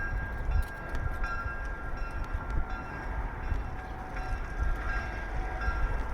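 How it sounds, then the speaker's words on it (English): A train rolls past on railroad tracks, a steady low rumble with faint rhythmic clatter and a thin whine, heard from some distance at moderate volume. "There's the train."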